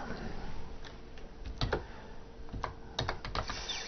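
Close, steady typing on a computer keyboard, with rapid key clicks and a few sharper taps in bursts across the four seconds, no voices.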